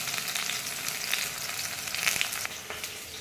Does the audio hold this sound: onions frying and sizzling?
yes